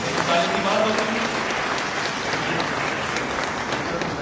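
An audience at a commemoration of Raja Rammohan Roy's 251st birth anniversary claps loudly and steadily, with dense, even applause filling the hall throughout and crowd noise mixed in.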